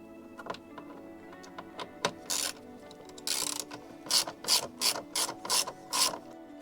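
A ratchet works loose a small screw on the thermostat housing of a Fiat 1.4 T-Jet engine, bursts of quick metallic clicking up close, coming in short repeated pulls with brief pauses between.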